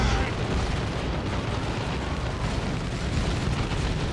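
Rumbling explosions and combat noise from the real-time strategy game Dawn of War 2 as a battle wagon is destroyed, a dense continuous roar with booms throughout, a voice faintly underneath.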